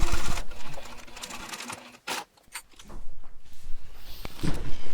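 A sewing machine stitches a diaper pouch seam with a 1/2 inch seam allowance, running in steady bursts of close whirring that briefly stop near the middle and then start up again.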